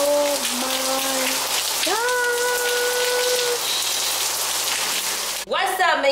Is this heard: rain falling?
yes